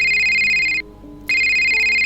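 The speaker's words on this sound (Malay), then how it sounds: "Cun, bunyi telefon berdering." A telephone rings with a bright, steady electronic tone that breaks off briefly in the middle and then resumes, loud and close, with no voices.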